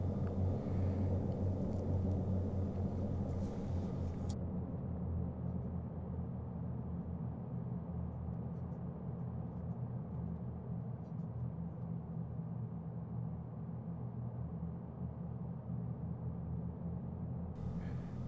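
Engines of a Short Stirling bomber in a flight simulator, a low continuous droning rumble, steady and moderately quiet throughout, with the upper hiss cutting away early and returning near the end.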